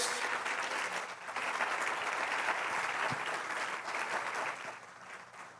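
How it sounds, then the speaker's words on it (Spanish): Church congregation applause during a sermon, a steady sustained wash of many hands clapping at moderate distance, holding level for several seconds before easing slightly at the end. "Puedes darle un fuerte aplauso en esto, Dios."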